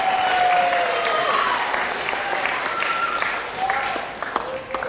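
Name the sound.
audience applause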